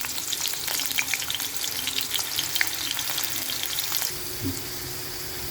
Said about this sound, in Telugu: ఆయిల్ తెక్కింది, దుంపలు వేస్తాము.